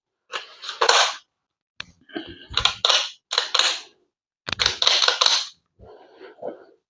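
A double barrel airsoft pistol fires Nerf-style rockets in a series of sharp, close cracking shots, several bursts with brief pauses between.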